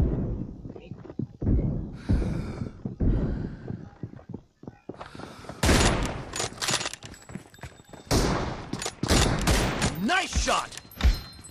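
Bursts of gunfire in a team deathmatch shooter game, rapid volleys and single shots mixed with thuds and footsteps, with people talking over much of it.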